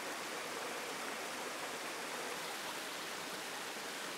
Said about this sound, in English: and another waterfall